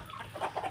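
Chickens on a backyard farm clucking in a few short, soft bursts, fairly close and alone with no talk.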